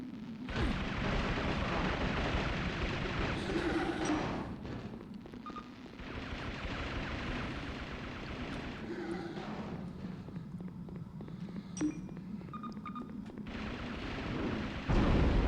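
Rockets exploding in a video game, a dense, sustained rumbling barrage of blasts with a few brief gaps, loud and continuous throughout.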